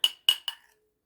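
Three quick glassy clinks of a teaspoon against a glass while stirring yeast and sugar, evenly spaced and bright, then silence.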